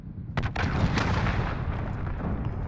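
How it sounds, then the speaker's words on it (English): Cruise missile strike in Call of Duty: Modern Warfare Ground War: a heavy, rumbling blast that stays loud and booming for the whole stretch, with a few sharp cracks near the start. "Allied cruise missile away."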